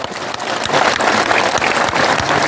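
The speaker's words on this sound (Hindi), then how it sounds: "मैं चाहना कि तालियां भी जोरदार बजे" Sustained crowd applause at a BJP nomination rally for Jugal Kishore, a dense, loud wall of clapping that holds steady without a break.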